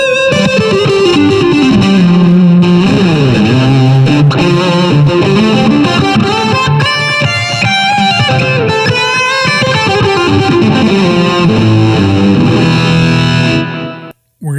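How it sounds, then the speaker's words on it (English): Electric guitar played through a Boss DS-1 distortion pedal into the UK amp model of a Blackstar Amped 2, a thick saturated tone with sustained chords and melodic runs, loud and continuous, cutting off abruptly near the end. "So I'm going to turn on the Boss DS1."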